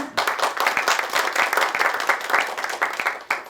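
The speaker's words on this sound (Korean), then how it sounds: "큰 박수로 맞아주십시오" A seated audience at a Gyeongsangbuk-do agreement signing ceremony for a young couples' housing improvement project applauds to welcome a guest, with steady, dense clapping from many hands close by throughout.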